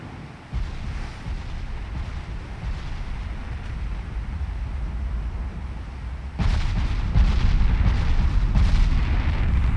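Naval artillery rumbles in Ultimate Admiral Dreadnoughts, a dense low booming roar of shellfire that runs continuously and grows louder and heavier partway through, with no talk over it.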